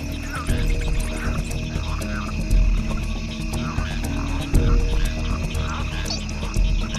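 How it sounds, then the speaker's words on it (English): Jungle frogs croak and call in a dense, overlapping chorus, steady pulsing calls at several pitches layered over a continuous hum of night insects, close and fairly loud with no talking. "frogs try to stay hidden or reduce their calls to a brief low-frequency rumble."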